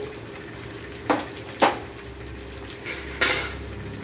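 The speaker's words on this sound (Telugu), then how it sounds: "బెండకాయ ముక్కలు వేసేస్తాము. ఇవి కూడా కొంచెంసేపు ఫ్రై చేయాలి." Okra pieces tumble into a pan with prawns, giving a few sharp clinks of utensil against metal over a low, steady frying sizzle, close and without speech.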